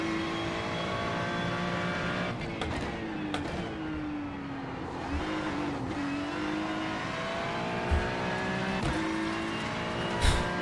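Race car engine on the Bathurst circuit in iRacing, a continuous whining drone that rises and dips in pitch through the lap, with a few short knocks and thuds, no talking.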